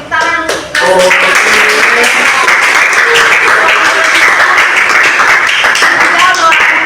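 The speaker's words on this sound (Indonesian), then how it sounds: "Oke, tepuk tangan untuk kita" Classroom clapping from students and teacher, a loud, dense burst of hands that starts after a short spoken moment and continues steadily, with voices mixed in.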